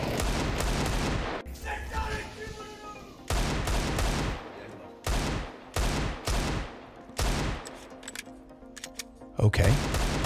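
Desert Eagle pistol shots in a Counter-Strike esports match, a series of sharp, loud single reports in irregular bursts with brief quiet gaps between them, and a voice talking between the shots.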